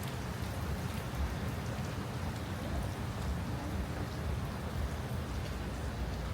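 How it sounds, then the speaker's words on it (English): Steady, even rainfall patters continuously on a surface at a Singapore hotel, a dense hiss with no voices. "It's raining."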